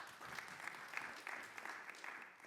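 Audience applause at a conference session on clean cooking solutions, a steady patter of many hands clapping throughout, fairly loud and close, with no speech over it.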